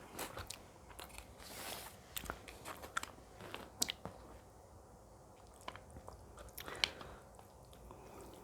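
Close, quiet biting and chewing of stuffed-crust Pizza Hut pizza with a cheese-filled crust, with irregular crunchy bites and soft wet mastication sounds, no talking.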